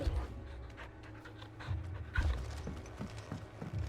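Dog panting in Final Fantasy XVI, quick rhythmic breaths close up over low game ambience, with no talking.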